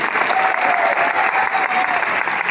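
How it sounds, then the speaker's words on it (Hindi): A large crowd claps loudly and continuously at a DMPL leaders' achievement gathering, the applause holding steady and thick throughout. "सभी करोड़पति लीडर्स और नियर करोड़पति लीडर्स के लिए एक जोरदार तालियां होनी चाहिए।"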